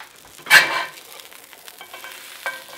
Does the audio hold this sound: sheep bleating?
no